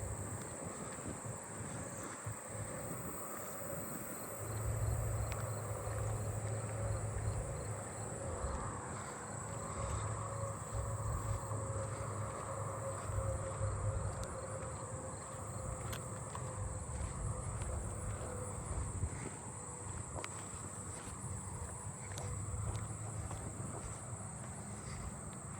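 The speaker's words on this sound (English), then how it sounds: "I'm hearing another fall field cricket, and there's some more of the agile meadow katydids." Fall field crickets and agile meadow katydids calling in a neighbourhood in late summer, faint continuous trilling and buzzing chirps layered over a soft background hum, with low rumbles passing now and then.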